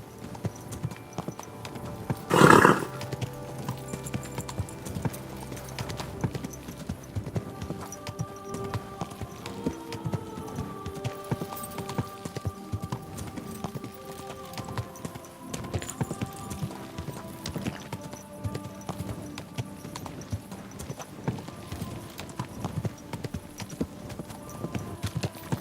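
Steady clip-clop of horse hooves trotting at an even pace in the video game Kingdom Come: Deliverance II, with a brief louder knock early on and faint musical tones underneath.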